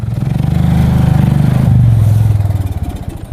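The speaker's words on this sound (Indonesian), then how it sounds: "Apa lagi ini motor?" Motorcycle engine running nearby, a loud steady throbbing idle that swells slightly and then settles into distinct rapid pulses toward the end, with no voices.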